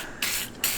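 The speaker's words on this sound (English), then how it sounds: "clean the exterior with some heavy-duty degreaser. So all you gotta really do is just kind of just spray it on top" Heavy-duty degreaser sprayed onto the exterior of a junkyard BMW differential in two bursts of bright, close hissing mist, the first long and the second starting just before the end.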